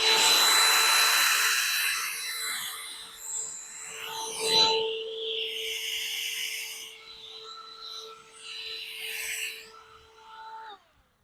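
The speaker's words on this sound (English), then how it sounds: "That's my mini vac trying to take these bugs out so that they won't take out my fruits" A mini handheld vacuum sucks bugs off fruit and vegetable plants in a garden, giving a close, loud whirring whine that fluctuates in pitch as the nozzle moves around the leaves, then cuts off.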